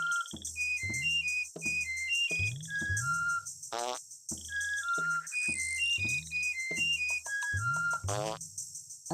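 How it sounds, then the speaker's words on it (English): Abe from the video game Oddworld: Abe's Oddysee whistles a short four-note sequence of bright, clear tones, and the sequence repeats several times, interspersed with low game sound effects and a brief rising chirp. "Thankfully a very simple 4-whistle sequence."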